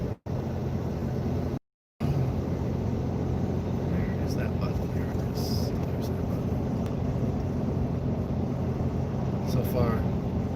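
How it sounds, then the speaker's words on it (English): A truck climbing a mountain highway, its steady low engine and road rumble running continuously close by, briefly cut out once near the start. "So far, truck's doing fine up the mountains."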